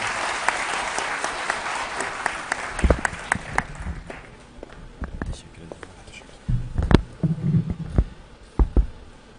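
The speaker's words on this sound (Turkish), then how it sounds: "Sayın Ercan Kayabaşı Beyefendilerini alkışlarınızla sahneye davet ediyorum." An audience at a university documentary premiere gives a burst of applause that fades after a few seconds, followed by scattered claps, rustling and a person speaking nearby.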